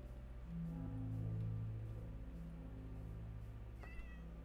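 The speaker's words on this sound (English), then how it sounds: "there's a cat up there" A cat meows in a Minecraft hardcore world, with several drawn-out in-game mews sounding at moderate loudness over a steady low background hum, no talk present.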